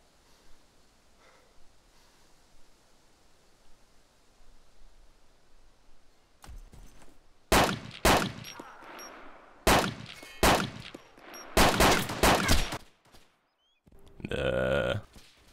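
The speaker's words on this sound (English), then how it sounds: "Do you hear that gunfire?" Gunfire in the video game DayZ, a burst of loud, sharp clanging shots in quick clusters after a quiet stretch, then a short noisy rush near the end.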